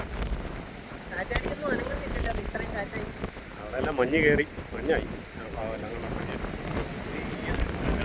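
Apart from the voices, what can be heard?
strong wind blowing over a plantation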